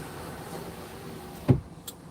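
A car's power window motor whirs briefly as the glass is rolled up, a short mechanical burst over steady road and wind noise inside the moving vehicle.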